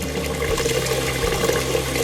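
Tap water runs steadily into a rice cooker's inner pot, a continuous close splashing pour with a low hum beneath, filling it to the third line.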